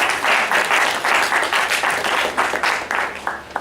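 Audience applause from a crowd at a public event, a steady burst of clapping that swells and fades over a few seconds, loud and close, with no talking over it.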